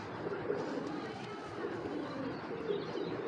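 Naptha pigeon, a large pure red-barred cock, cooing in soft repeated low coos over a murmuring background with faint chatter, fairly close and steady throughout.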